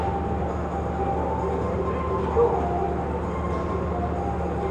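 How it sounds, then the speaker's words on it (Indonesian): A diesel passenger train, the Sri Tanjung, departs Jember station in Indonesia, rumbling steadily with a low engine drone and faint metallic squeals, a continuous moderate rail noise without talk. "kereta api Sri Tanjung diberangkatkan kembali dari stasiun Jember"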